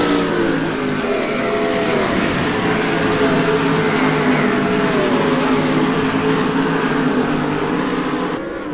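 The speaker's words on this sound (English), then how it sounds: "BMW Z4 GT3 sounding glorious" A BMW Z4 GT3 race car engine in a racing video game roars continuously at high revs at Silverstone, its pitch climbing and shifting through gears, with no talking over it.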